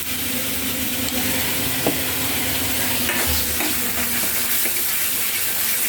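A masala with red Byadgi chili powder is sautéed in a pan, giving a loud, close, continuous sizzle with repeated stirring scrapes and occasional clinks. No one speaks.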